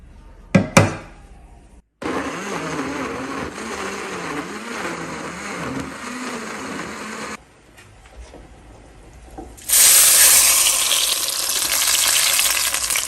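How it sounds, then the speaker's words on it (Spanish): Blender liquefying chiles, tomato, a piece of onion, garlic and about a cup and a half of water, a steady loud whirring drone after a brief clatter, pausing briefly, then resuming with a harsher, brighter roar. "En la licuadora vamos a agregar los chiles y el jitomate, le voy a agregar un pedacito de cebolla, un ajo"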